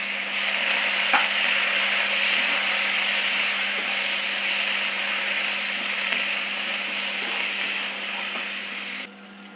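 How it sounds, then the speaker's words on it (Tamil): Curry leaves sizzling hard in hot oil with fried lentils in a pan, a loud continuous crackling hiss that holds steady throughout. "நல்லா பருப்பெல்லாம் வதங்கிடுத்து இப்போ இந்த கருவேப்பிலையை போட்டுடலாம்."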